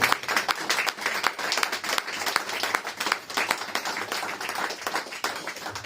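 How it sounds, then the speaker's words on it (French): Church congregation applauding and cheering for Jesus during a Sunday service, a dense, steady crowd of clapping hands, moderately loud and continuous throughout. "Est-ce que tu peux acclamer pour Jésus, s'il vous plaît?"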